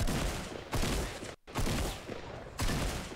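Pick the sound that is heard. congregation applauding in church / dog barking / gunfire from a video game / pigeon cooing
gunfire from a video game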